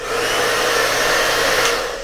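A Chison hair dryer runs steadily and loudly, a continuous fan whoosh with a faint high whine, held in the hand in normal drying position for about two seconds with no talking.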